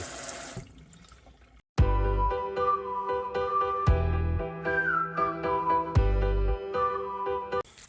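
Water running from a household faucet after frozen pipes were thawed, a steady close splashing stream into a sink with hollow, whistling resonance and a few heavier gushes.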